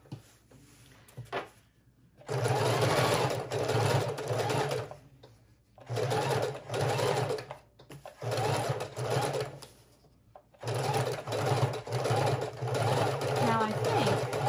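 Sewing machine stitching a fabric junk journal cover with a file folder inside, running in three long loud bursts with short pauses as the fabric is pivoted, close up.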